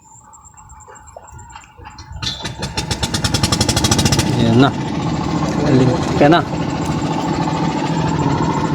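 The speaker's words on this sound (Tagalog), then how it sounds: "Buhay na ng makina." A boat engine sputters to life and builds into a loud, steady idling rumble on a fishing trip among water spinach, with voices talking over it.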